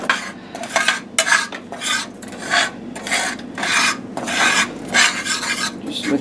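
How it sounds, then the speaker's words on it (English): A spatula stirs homemade gravy in a pan for fried chicken, with repeated rhythmic rasping scrapes against the metal about twice a second, loud and close, with no talking. "Just let that stir,"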